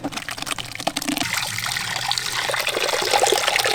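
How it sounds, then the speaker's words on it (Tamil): Coconut milk wrung by hand from freshly ground coconut, giving a loud, continuous wet trickle and splash of liquid that is close and steady throughout, with no talking. "இப்போ நல்லா புளிஞ்சு பால் எடுத்துக்கலாம்."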